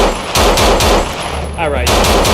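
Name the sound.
gunfire in a video game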